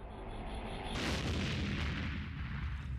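An improvised explosive device blast in Afghanistan's Pech Valley, heard as a sudden loud broadband boom that rises sharply after a moment of steady noise, then a sustained rumbling roar and debris wash that lingers without fading quickly.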